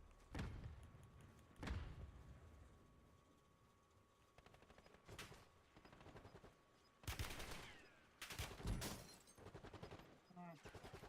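Gunfire in the battle-royale shooter Call of Duty Warzone: scattered single shots and short automatic bursts at varying distances over a steady background hum, with some faint voice chatter.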